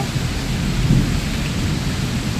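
Heavy rain with thunder during a sudden storm, a dense, loud, continuous roar of downpour with a low rumbling swell partway through, no voices.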